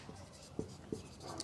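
Someone writes on a classroom board during a Sanskrit lesson, producing a few faint, close tapping strokes with quiet pauses between them.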